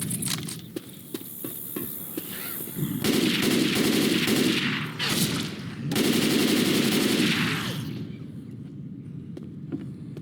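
Rapid automatic gunfire with frag rounds in the zombie shooter game Left 4 Dead 2, loud sustained bursts with brief pauses, preceded by scattered single shots and followed by fading reports.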